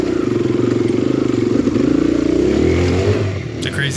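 An enduro motorcycle rides hard off-road through slick, slimy terrain on a super bald tire, its engine loud and close with a steady throbbing drone that rises and falls as the throttle works, with no talk over it.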